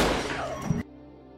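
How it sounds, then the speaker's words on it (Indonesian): A single sharp gunshot in a film scene, a loud burst with a brief reverberant tail that cuts off abruptly into near silence. "Miguel melepaskan tembakan untuk membunuh Naranjo."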